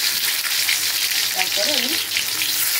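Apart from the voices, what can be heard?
potatoes with salt and turmeric frying in hot oil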